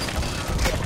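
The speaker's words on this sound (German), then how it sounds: "Das ist ein Geschütz." Gun turret firing in the shooter Blacklight Retribution, heard as one sharp, crashing blast that rises out of a dull background of game noise.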